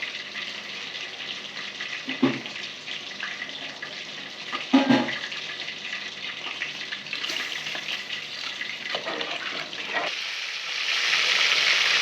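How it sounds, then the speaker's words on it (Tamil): Water poured into a pot for basmati biryani in a home kitchen, a steady watery rush with a couple of dull knocks, then a louder hissing splash near the end. "இப்போ தண்ணி ஊற்ற போகிறோம்."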